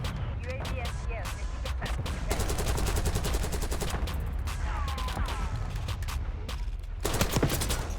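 Repeated shotgun blasts from the Krig C loadout in Black Ops 6, loud and dense, firing in rapid bursts amid other gunfire and game effects, with a voice talking over the action.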